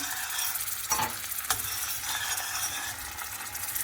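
Cream being stirred into a pot of melted butter for trileçe, a steady close sizzle and bubbling with a couple of scraping spoon knocks against the pot.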